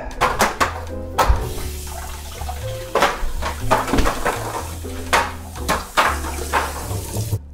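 Fresh strawberries rinsed under a running kitchen tap, water splashing and pattering with intermittent knocks of fruit and dishes in the sink, close and moderately loud, with no voices.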